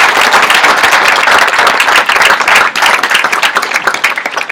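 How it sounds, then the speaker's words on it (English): Loud, sustained applause from an audience at a university honors induction ceremony, dense steady clapping close by that thins slightly toward the end. "let's give one more round of applause to all of these students"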